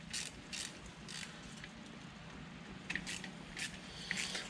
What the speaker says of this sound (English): So we're going to go ahead and loosen the bolts